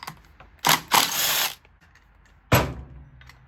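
A ratchet works on the 10mm clutch bolts of a Honda CRF110, producing close, short bursts of rapid clicking, two quick runs followed by another after a pause.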